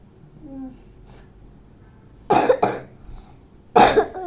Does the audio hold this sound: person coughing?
yes